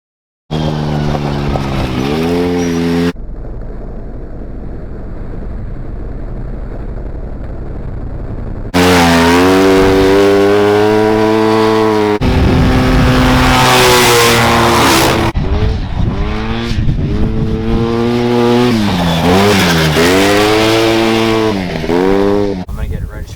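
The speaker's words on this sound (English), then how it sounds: "here are some driving clips that we were able to shoot of the actual owner driving the vehicle" A 2007 Redline Revolt UTV driven outdoors, its engine droning loud and steady with pitch rising and falling as it revs and accelerates across several passes, with a short stretch of quieter running in between.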